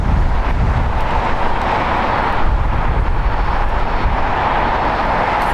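An Air Canada Boeing 737 MAX 8 jet, five years old, bound for Vancouver, roars steadily at LAX, a broad continuous engine rumble with wind buffeting throughout and no voices.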